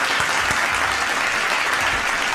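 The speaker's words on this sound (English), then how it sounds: "Round of applause." Dense, steady audience applause fills the whole moment on a chat show celebrating a host's 40th birthday, strong and unbroken, with no voices.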